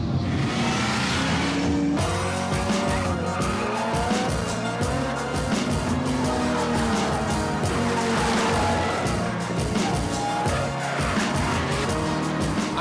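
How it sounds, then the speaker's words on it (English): Drift race cars, including a Toyota GT86, scream through a Drift Allstars event with continuous loud engine roar, rising revs and long tire squeals that sustain throughout without pause. "a lot of horsepower, a lot of tire smoke, and a lot of excitement"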